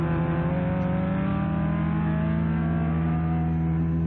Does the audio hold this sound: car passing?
yes